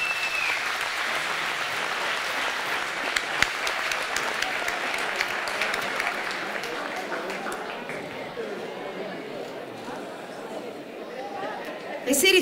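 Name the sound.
warm audience applause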